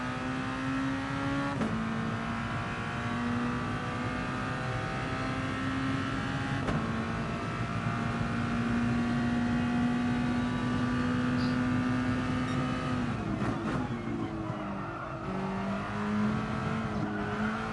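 Race car lapping Monza in a racing video game, a continuous engine drone rising through gears with sharp shift drops and downshifts under braking, steady and close throughout with no talk.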